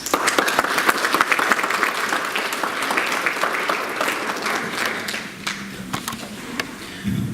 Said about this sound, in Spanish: Lo recibimos con fuertes aplausos